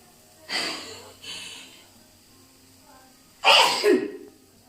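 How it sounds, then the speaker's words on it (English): A sharp breath in, then a loud close sneeze with a short gasp after it, in an otherwise quiet room. "I sneezed"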